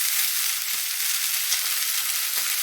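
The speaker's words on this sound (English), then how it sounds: "as that browns the edges of those onions, it'll bring out the natural sweetness of the onion" Onions sizzle and brown in a frying pan with a dense, even hiss that holds steady from start to finish, close up and with no talking over it.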